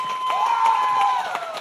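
Crowd at a cystic fibrosis fundraising awards ceremony cheering and applauding, a short loud swell of whoops and shouts over clapping.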